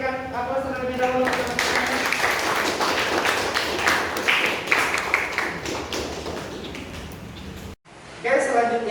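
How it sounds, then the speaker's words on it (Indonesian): A classroom of students claps together in sustained applause, a dense patter of many hands that fades briefly before a voice speaks at the end. "Berikan aplaus terlebih dahulu."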